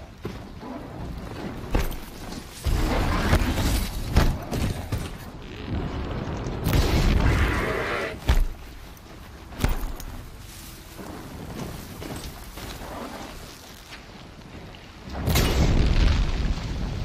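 Explosions in Horizon Zero Dawn, a machine blowing up in flames: repeated heavy booms and rumbling blasts at intervals over a dense, loud game soundscape, with no talking.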